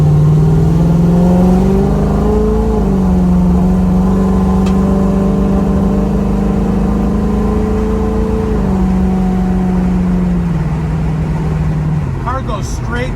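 A 1965 Ford Mustang with a 289 engine and automatic transmission drives on a test drive, its engine droning steadily and loudly with gentle pitch rises as it accelerates and shifts, heard from inside the car.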